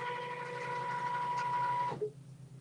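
A machine stitching out a quilt block with a steady, fast mechanical whir and hum for about two seconds, then stopping abruptly into near quiet.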